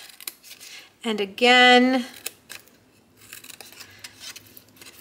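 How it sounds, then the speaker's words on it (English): Scissors snip through the corners of paper tabs while a kit-style treat holder is assembled; a few short crisp cuts come close up, with brief speech from a person and quieter rustling of paper between snips. "snip and cut off those corners"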